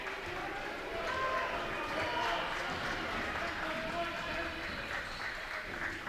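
Crowd of fans at a high school boys basketball game growing loud during a tense moment, a sustained roar with squeaking shoes and court noise beneath a commentator's talk.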